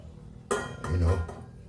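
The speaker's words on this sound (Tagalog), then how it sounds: "Lipat natin sa ibang kaldero." Metal cooking pots clank together as boiling mung bean stew is transferred into another pot, a few sharp close clinks and knocks, with a voice speaking over part of it.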